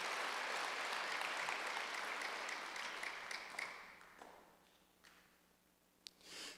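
A church congregation applauds steadily during a Wednesday service, the clapping fading out toward the end with a few last scattered claps.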